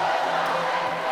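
A dense gymnasium crowd roars steadily during a men's university volleyball match between Mona and Cave Hill, a loud, sustained wash of cheering and shouting with no breaks.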